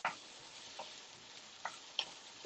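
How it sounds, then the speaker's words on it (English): Beef noodle stir-fry with green beans, pepper and garlic sizzling faintly in a pan, a soft steady hiss broken by a few sharp ticks and pops. "let this stir fry"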